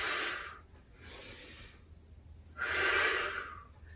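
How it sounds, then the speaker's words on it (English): Loud, close breaths drawn in and pushed out during a rotator cuff stability exercise, three strong airy breaths in slow rhythm with a softer one between them. "Inhale down, exhale up."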